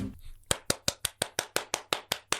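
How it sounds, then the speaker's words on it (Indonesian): Hands clap about a dozen times in a steady, even rhythm, crisp and close. "Harus tepuk tangan dulu."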